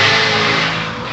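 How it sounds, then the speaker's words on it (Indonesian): A motorcycle with a loud modified exhaust blares close by in a short, dense, rasping drone that fades slightly as it passes. "motor teh malah suaranya dibikin brong gitu, jadi ganggu audio semuanya"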